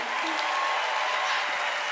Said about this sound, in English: Let's give Zoe one more round of applause, ladies and gentlemen.